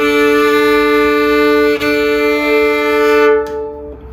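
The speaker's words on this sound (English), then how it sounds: "Every note played on a Hardanger fiddle is what is called a double stops," A Hardanger fiddle bowing double stops, two pitches sounding together with an adjacent open string acting as a drone. One sustained, steady bowed chord rings for about three and a half seconds, with a faint bow change partway through, and no talk.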